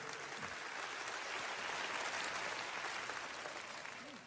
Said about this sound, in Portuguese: Isto, aplauda ao Senhor em louvor.